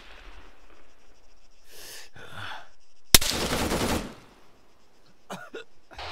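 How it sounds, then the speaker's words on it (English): Gunfire in ARMA 3 crackles in a sharp loud burst around the middle, with scattered fainter shots and rustling before it and a few quick reports afterward. "Enemy fire!"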